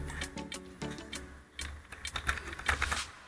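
Keys on a computer keyboard are typed in short, irregular bursts of close, crisp clicks with brief pauses between them, heard alone.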